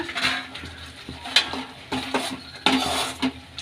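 Wood apple gojju being stirred and mixed with fresh coriander leaves in a pot, giving soft wet scraping and a few sharp spoon clinks against the vessel, close and moderately quiet with no voices.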